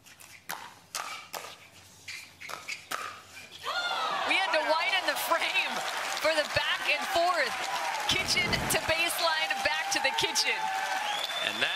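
Spectators at a women's doubles gold medal pickleball match in Newport ooh and aah in a sustained swell of crowd noise, with paddle pops and people talking mixed in throughout.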